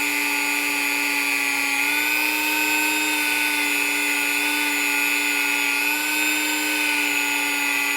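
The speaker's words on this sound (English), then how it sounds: "I find it's best to use a fresh sanding sponge in your Dremel" A Dremel rotary tool fitted with a fresh sanding sponge whines steadily and continuously while blending out scratches on a handmade jaw harp, a close, high-pitched tonal drone with no talking.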